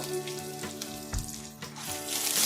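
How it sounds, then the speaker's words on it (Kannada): Dried red chillies, green chillies and curry leaves frying in hot oil for wedding-style lemon rice, a steady close sizzle with a brief louder crackle midway. "ಸ್ವಲ್ಪ ಫ್ರೈ ಮಾಡ್ಕೊಳ್ಳೋಣ ಒಣಮೆಣ್ಸಿನ್ಕಾಯಿ ಒಂದು ಎರಡರಿಂದ ಮೂರು ಹಸಿಮೆಣಸಿನ್ಕಾಯಿ ಒಂದು ಮೂರು ಸ್ವಲ್ಪ ಕರಿಬೇವು"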